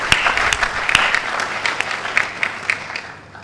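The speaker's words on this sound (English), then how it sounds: "give yourselves a great round of applause" Women in the audience at a public gathering applaud, dense overlapping claps with a few sharper individual hits, steady and then thinning toward the end.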